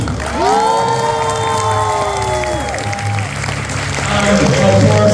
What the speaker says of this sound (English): So again, once again, big clap please for the team.